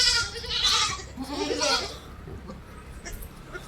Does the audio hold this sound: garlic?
no